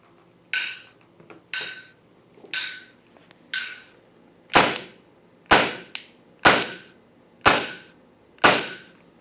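A shot timer beeps at one-second intervals in a shooting-practice drill: sharp electronic tones evenly spaced about a second apart, some quieter ones first, then a run of louder, crisp beeps close by.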